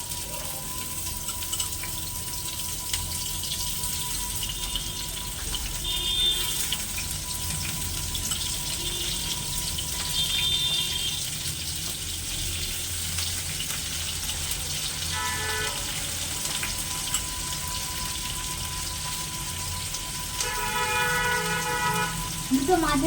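Chopped onions sizzle in hot oil in a pan as chicken biryani is cooked, a steady, fairly loud hiss running throughout with faint clinks and kitchen noise.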